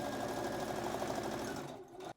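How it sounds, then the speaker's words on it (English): A sewing machine runs steadily while stitching a jacket collar seam from the seam allowances up to the collar peak, a continuous close whirring hum that stops abruptly near the end. "We're just sewing from the seam allowances up to the peak of the collar"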